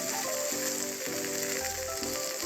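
Green chillies sizzle and crackle in hot oil in a pan, making a steady, close frying hiss with no talking.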